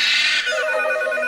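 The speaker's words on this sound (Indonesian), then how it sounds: "telepon. Kita mau angkat telepon dulu ya." A telephone rings loudly and close by in a domestic indoor setting, an electronic ringtone with a bright tonal pattern that shifts partway through the short burst, with no voices over it.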